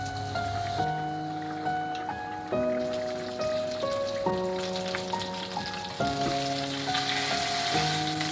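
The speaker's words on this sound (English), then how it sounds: "in the pan, and I'm going to add a bit of butter as well." Butter sizzles in a hot frying pan on medium-low heat, a steady crackling fry heard under sustained musical tones.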